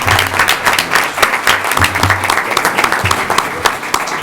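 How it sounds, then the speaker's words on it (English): Audience applause for the mayor at a US-Mexico border conference, a full steady round of many hands clapping, close and lively, with faint voices underneath. "let's give the mayor a round of applause and thank him for his time"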